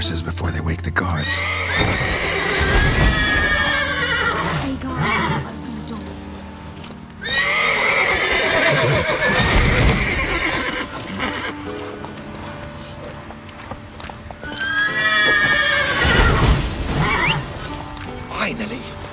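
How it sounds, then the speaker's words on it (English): In The Witcher 3, stabled horses whinny loudly in three separate bursts, with hooves clopping and shuffling between them and a voice speaking over parts of it. "Gotta calm all the horses before they wake the guards."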